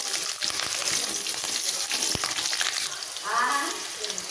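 Green chillies and ginger fry in hot oil for semiya kichadi, a dense, close sizzle with stirring scrapes and a sharp tap on the pan partway through.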